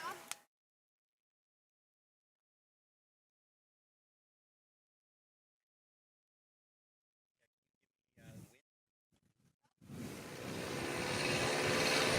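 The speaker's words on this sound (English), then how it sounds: "Here's the Taylorcraft now on the roll." A Taylorcraft light airplane starts its takeoff roll at an Outlaw STOL competition. After long silence and a brief noise, the engine roar swells in and grows loud and steady to the end.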